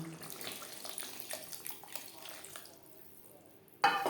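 Water poured from a tap-like stream into spiced sour yogurt masala for Bengali doi pabda, a steady splashing rush for several seconds that thins out, followed by a brief louder clatter at the end.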